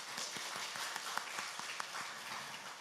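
Church congregation at a Sunday morning worship service clapping in a faint, steady patter of many hands, with a few sharper claps standing out; no voices heard.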